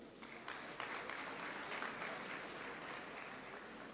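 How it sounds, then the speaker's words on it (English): Audience applause at an awards and publication launch event, a steady burst of clapping from a hall full of people, moderately distant with no talking over it. "I think all of us need to give ourselves a round of applause."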